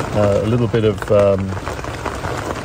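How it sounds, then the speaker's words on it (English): Heavy rain and hail from a violent thunderstorm in the Drakensberg patter steadily on a surface, a continuous wash of drops running under a voice, then carrying on alone. "incredibly violent storms with lightning and heavy, heavy rain"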